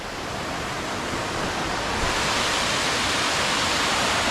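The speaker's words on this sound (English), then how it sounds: "I heard the sound of running water and I couldn't resist." Running water of a highland waterfall, a continuous broad rushing roar heard up close, swelling slightly louder partway through and then holding steady with no voices.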